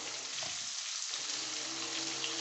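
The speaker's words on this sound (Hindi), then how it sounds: "अब इसी ऑयल में हम जो है ना ये गोभी डालेंगे और इसको भी इसी तरह से हम फ्राई करेंगे।" Cauliflower pieces frying in hot oil give a steady, dense sizzle that holds evenly throughout, close and moderately loud with no voices.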